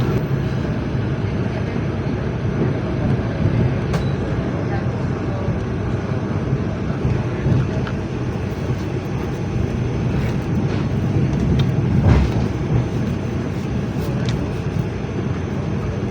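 Wijaya Kusuma passenger train pulling into Jember station, heard as a steady low rumble with faint background murmur throughout, with no distinct horn or brake squeal standing out.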